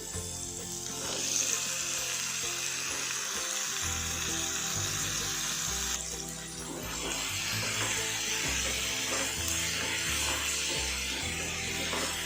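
Mutton liver fries in a pan with a continuous, even sizzle that holds steady throughout, while music plays softly underneath.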